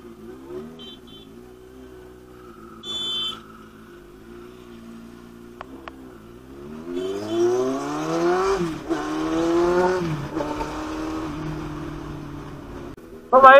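A Kawasaki Ninja 1000 motorcycle with a very loud aftermarket exhaust idles, then revs and accelerates, its engine note climbing and roaring close by before settling. There are a couple of short beeps near the start.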